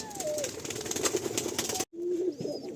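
Malbai pigeons in a loft give soft, low cooing calls close by, with a steady background murmur and some faint chatter, briefly cut off before another coo.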